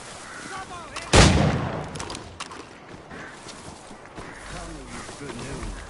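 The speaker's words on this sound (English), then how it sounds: "Those cannons are like to cause trouble." A single heavy cannon blast booms out in an Assassin's Creed 3 Remastered campaign battle, then fades into rumbling battlefield noise while voices talk.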